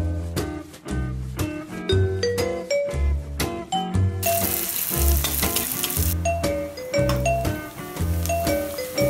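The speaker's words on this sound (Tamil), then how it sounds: "ஃபஸ்ட்டு எண்ணெய் ஊற்றி ஆனியன் மட்டும் நல்லா தனியாக ஃப்ரை பண்ணி எடுத்துக்கோங்க." Onions frying in oil in a home kitchen pan for Burma egg, a steady sizzle running under louder tinkling background music, with a brief burst of harsher hiss midway.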